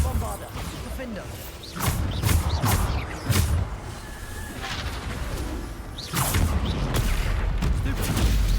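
Bombarda spell explosions in the Hogwarts Legacy video game: several sharp booming blasts at irregular intervals over ongoing combat clatter and rumble, moderately loud.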